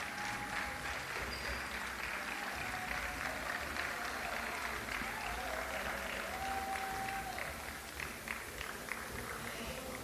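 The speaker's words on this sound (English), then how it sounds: "let the applause sustain until he comes on stage" Sustained audience applause at a JA Africa Company of the Year 2022 event as a contestant from Eswatini heads to the stage, faint and distant, an even, continuous patter without pauses.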